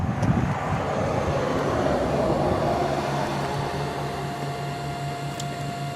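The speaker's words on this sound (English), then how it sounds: "Now the lights are on, and there's the fan. You can hear them, but they're pretty quiet." Steady low whir of a small cooling fan on an H11 LED headlight bulb, a faint continuous hum with a thin tonal whine, close and quiet, with no speech.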